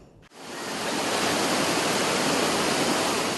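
Fast rushing river water from a flash flood across a road in Tangse, Aceh, a loud steady roar that swells in after a brief cut and stays close and continuous.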